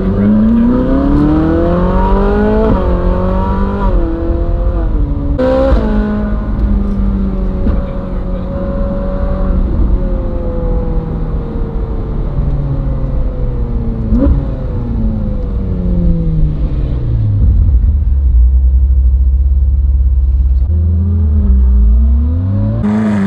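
Ferrari driving along a country road into the town of Broadway: a loud, close engine drone that rises and falls in pitch through gear changes and acceleration, heard continuously from inside or near the car.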